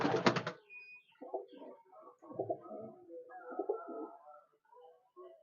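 Pigeons of high-quality tournament stock with blue markings coo in a quiet space, a sharp burst of noise at the start followed by a series of soft, throaty coos in irregular phrases.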